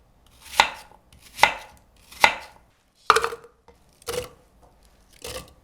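A knife cuts a peeled apple into pieces on a board, six crisp, firm chops at a steady pace, each close and distinct with quiet gaps between, and no one speaking.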